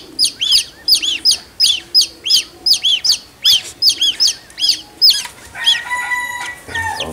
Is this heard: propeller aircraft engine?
no